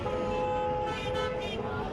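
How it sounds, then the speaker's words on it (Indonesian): Car horns honk in sustained overlapping toots from a night-time celebratory vehicle convoy with flag-waving on Baghdad streets, loud and near above a steady rumble of traffic, with a narrator's voice speaking over it. "Konvoi kendaraan, kibaran bendera dan pakai klakson menjadikan suasana malam di kota Baghdad"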